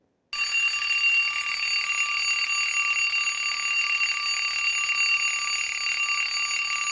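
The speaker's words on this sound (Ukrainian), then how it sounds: "День, коли будильник дзвонить" A continuous, loud electronic alarm clock ringing steadily for several seconds with a bright, shrill tone, then cutting off abruptly.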